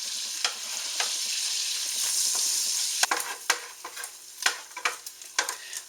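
Food frying crisply in hot, splashing grease for a fire-roasted tomato bisque, a steady sizzle hissing throughout with sharp spits and pops that grow more frequent in the second half.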